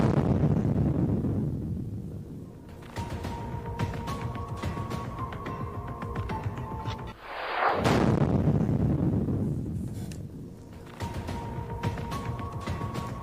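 TNT explosive demolition of the Noida twin towers: a loud, deep rumbling blast swells midway through, standing out over steady wind and background noise.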